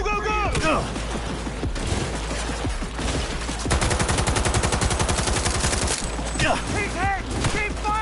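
Gunfire in Cyberpunk 2077, a long rapid automatic burst among scattered shots and clatter, loud and close, with shouted combat voices underneath.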